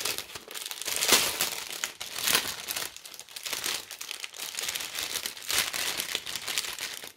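Plastic bags of diamond painting beads are handled and opened up close, producing continuous loud crinkling and crumpling in repeated bursts with no talking.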